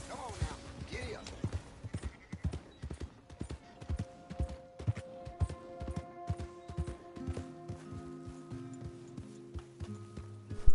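Horse hooves clip-clopping in a steady trotting rhythm in Red Dead Redemption 2, close and clear, with occasional whinnies, faint background music and a short spoken line.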